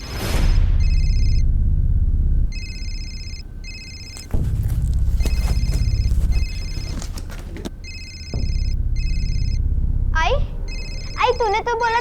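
Mobile phone ringtone chiming in repeated bursts, with a low rumbling ambience and voices speaking over it, ending in a short rising electronic trill.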